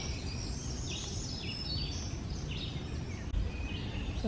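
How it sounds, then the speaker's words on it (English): Several birds chirp and trill in overlapping bursts over steady outdoor background noise in Iroquois Park on a May morning, fairly distant, with no one talking. "I hear a lot of birds,"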